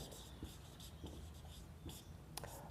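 A pen writes an answer on paper for a maths problem, with faint scratching strokes and light taps at an uneven pace behind soft room noise.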